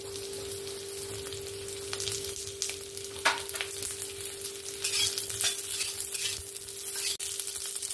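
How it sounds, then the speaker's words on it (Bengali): Potatoes fry in hot oil with a little salt and turmeric, after fritters were fried in the same oil, giving a steady close sizzle with occasional stirring and utensil scrapes throughout. "এবার ওই তেলের মধ্যেই আমি আলুগুলো ভেজে নেব।"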